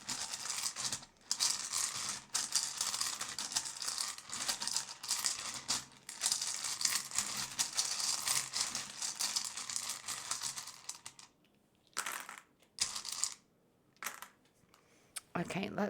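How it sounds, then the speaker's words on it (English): Continuous papery shuffling and riffling of cards, dense and close, breaking into a few separate bursts with short silences near the end. "This may be a little noisy now because I am literally shuffling these letters"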